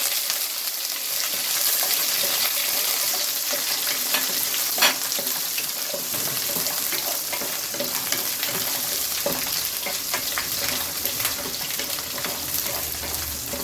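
Shallots, green chilies and curry leaves sautéing in hot oil with bay leaf for Bangalore-style chicken gravy, a loud, steady, close sizzle with occasional crackles and stirring scrapes, no talking.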